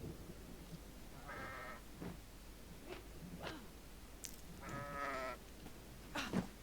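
Goats in the video game Kenshi let out a couple of quavering, faint bleats amid a noisy, hissing backdrop with scattered clicks and thuds.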